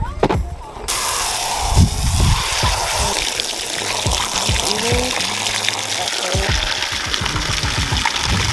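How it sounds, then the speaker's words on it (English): Water pouring and splashing into a pig's water dish on a farm: a steady broadband rush of running water with gurgles and sloshing, close and continuous, with scattered low thumps. "now we'll get on to watering"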